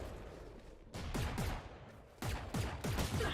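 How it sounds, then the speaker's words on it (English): Several bursts of rapid gunfire from a Valorant match, firing in short clustered volleys with brief gaps between them, loud and close with no talk over it. "Shots coming in left, right, center, but nothing's really hitting yet as of yet."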